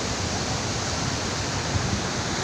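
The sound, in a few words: Bogata waterfall rushing water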